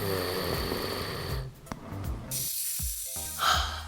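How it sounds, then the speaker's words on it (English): Cartoon snoring in an animated kids' science piece, a rattling, noisy snore breath over a sustained musical backdrop, joined by snorting hisses and swooping effects. "Snoring is a noisy, rattling sound occurring during sleep."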